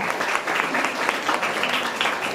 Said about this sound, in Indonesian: Oke, berikan tepuk tangannya ya.